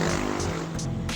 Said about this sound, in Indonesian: Jadi kalau misalnya udah suaranya mobil gitu jangan kaget ya